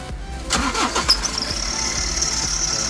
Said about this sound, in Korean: 일단은 시동을 한번 걸어 보겠습니다